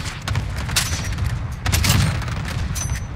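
Dense, rapid gunfire from a Call of Duty Warzone match, with overlapping shots and booming reports filling the whole stretch at close range.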